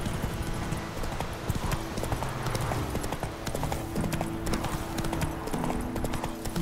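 Rhythmic hoof clip-clop of a galloping horse in The Witcher 3: Wild Hunt, steady and close, over a constant low background hum.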